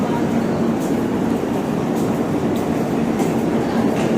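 A Duronto Express train at Sealdah railway station, heard as a steady, loud rumble of rail and platform noise with a low hum running throughout.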